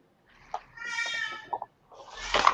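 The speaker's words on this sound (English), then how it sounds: "I love that your cat is like a talkative cat." A talkative house cat meows several times close by, short chirps followed by a longer drawn-out meow and a louder rising cry at the end, with faint background noise.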